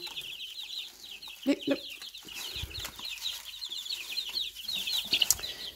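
Naked neck chickens and chicks cluck and peep while feeding, a busy run of close, overlapping high chirps with occasional louder clucks and faint rustling.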